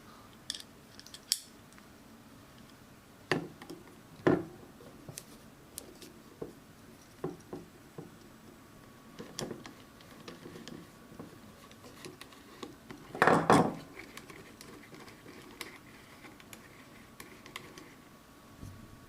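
A 2mm Allen key backs screws out of a Perun clicker speed trigger for an airsoft gun, giving scattered small metallic clicks and ticks at irregular intervals with one denser rattling burst near the end, close and fairly quiet.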